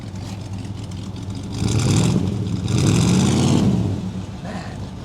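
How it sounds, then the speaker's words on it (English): A 1960 Studebaker Lark V8 rumbles at idle nearby, then gets revved twice, the engine note climbing and falling each time before it settles back to a steady idle. "Okay, rev the engine, Roy"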